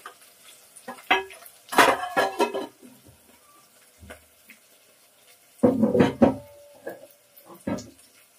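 A spoon scrapes and clatters against a pot while okra and tomato curry with turmeric is stirred, two clusters of close, loud scraping separated by quieter gaps, with faint sizzling underneath and no talking.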